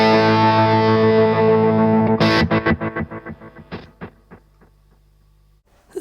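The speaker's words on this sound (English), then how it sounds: "I can have loads of different delay sounds saved and then recalled by" A Strymon Timeline delay pedal recalls a preset over MIDI. A loud sustained guitar chord stops abruptly, then a fast train of repeating echoes follows, fading steadily over the next few seconds.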